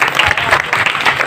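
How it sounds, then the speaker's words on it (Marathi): An audience at a kirtan claps loudly and continuously, a dense, steady patter of many hands close by with no talking over it. "त्या टाळी झाली पाहिजे"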